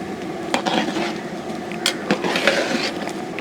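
Ground beetroot is stirred into a large batch of grape juice, with a spoon clinking and scraping against the vessel in a few close, irregular knocks over a wet swirling background.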